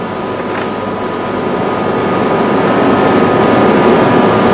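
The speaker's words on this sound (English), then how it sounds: "the rolling direction is reversed, the gap between the rollers reduced, and the process is repeated all over again" Steel plate being cold rolled between mill rollers, with the gap reduced and the pass repeated: a loud, continuous broadband industrial roar that swells slightly as it goes, with no talk over it.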